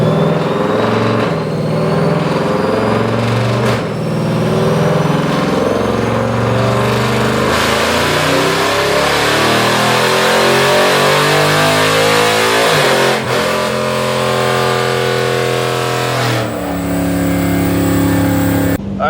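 Dodge Challenger Scat Pack fitted with a JLT intake roaring through a full pull on a dyno, loud and close, the engine note climbing repeatedly through the gears with sharp shifts and rising revs.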